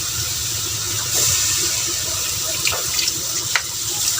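Sprite is poured into a pot of cooking crab, a continuous splashing liquid stream with small bubbling bursts, close and moderately loud with no talking.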